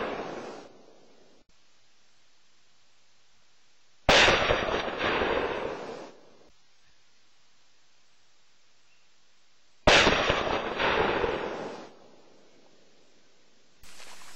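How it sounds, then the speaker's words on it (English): Two loud, sharp slug-gun blasts from a 20 gauge H&R Ultra Slug gun firing 3-inch magnum sabot slugs, each with a booming decay of about two seconds, spaced roughly six seconds apart, with a click at the end. "Mike Kingston of Aim Point is shooting the 20 gauge, 3-inch magnum ammunition using an H&R Ultra Slug gun"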